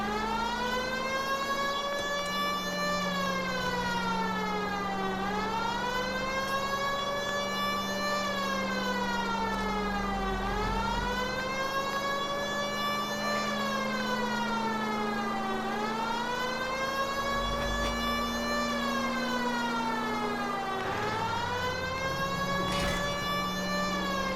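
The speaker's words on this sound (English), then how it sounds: "At least if you put the siren on, it'll let people know what's happening before you hit them, Phelps." Police car siren in the video game LA Noire, a loud wailing tone rising and falling in long repeated sweeps over a steady engine hum, with no talk.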